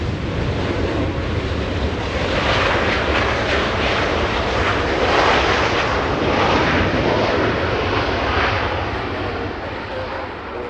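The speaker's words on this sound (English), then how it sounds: "Southwest 2378 flying in from San Francisco, this one. A 737-800, 20 years of age for this one." A twenty-year-old Southwest Airlines Boeing 737-800 on approach to LAX, arriving from San Francisco: a loud, sustained jet engine roar that swells and holds, with a person talking over it.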